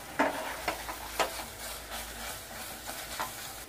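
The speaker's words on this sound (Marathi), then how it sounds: "आता हे फेटलेलं अंडं मी ह्याच्यात टाकते। आपल्याला छान पैकी हलवून घ्यायचे" Beaten egg stirred in a pan over a low gas flame for egg halwa: a soft, steady sizzle broken by several light scraping strokes of the stirring spoon, close up and without speech.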